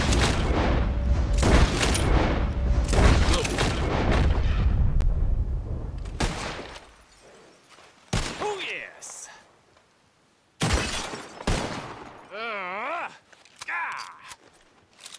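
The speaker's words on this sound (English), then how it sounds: "Whoever shoots the most bottles wins, okay?" Gunfire in a bottle-shooting contest within a Western video game: a dense run of close, sharp shots gives way to quieter pauses, then a few isolated bangs, with voices speaking between them.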